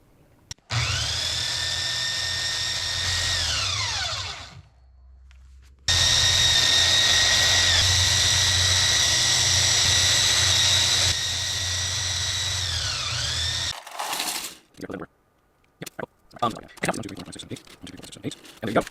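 A motor spins an 8-bladed 3D printed propeller hub with a loud, high whine that rises, cuts out, returns louder, then winds down. Brief bangs and clattering handling noises follow.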